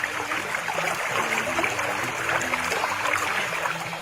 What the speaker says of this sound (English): Is that water?